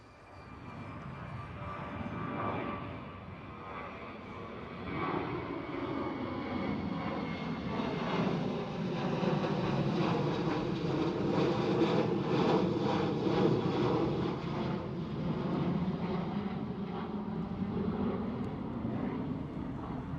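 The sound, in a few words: Transavia Boeing 737 jet airliner at Schiphol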